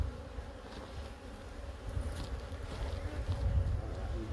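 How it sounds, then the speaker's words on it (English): Honeybees buzzing around hive boxes holding mating nucs at a feeding spot, a soft, continuous droning hum from many insects nearby that swells slightly toward the end. "Love seeing healthy, happy bees."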